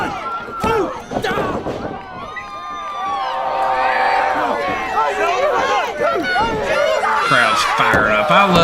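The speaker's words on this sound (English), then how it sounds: "The sound of a crowd of people enjoying pro wrestling, hooting, hollering, yelling, laughing." A live pro wrestling crowd roars, hoots, hollers, yells and laughs loudly throughout, a dense, swelling wall of many voices with whistles and shouts rising toward the end.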